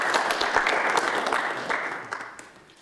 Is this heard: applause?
yes